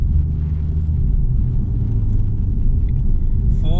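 A tuned Ford Falcon FG Turbo car, making 439 horsepower, accelerates with a loud, steady engine rumble and road roar heard from inside the cabin.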